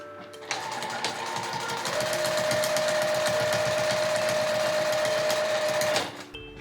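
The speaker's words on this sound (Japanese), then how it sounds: "この後端から 5mm で縫い代を縫い合わせていきます" A sewing machine stitches the seam allowance of a quilted zippered insulated bag, 5 mm from the edge, in one continuous close burst of rapid mechanical needle clatter with a steady motor whine, starting and stopping cleanly.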